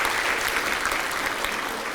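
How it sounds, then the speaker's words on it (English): Audience applause at a live book talk event, dense steady clapping from a sizeable crowd, even and continuous throughout. "You don't need to clap for everything."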